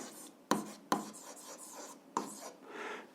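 Pen writing on paper while an algebra answer is worked out, soft scratchy strokes broken by three sharp taps of the pen, close and quiet, with no talk.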